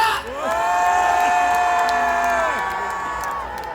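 A large crowd at a patriotic rally in Gwanghwamun cheers and shouts in a sustained, loud roar that swells quickly and holds steady before easing slightly.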